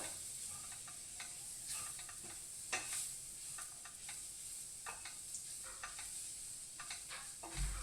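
Bhindi (okra) curry stirred in a pan over low heat, with soft irregular scraping taps of a spoon against the pan over a steady faint sizzle, no talking.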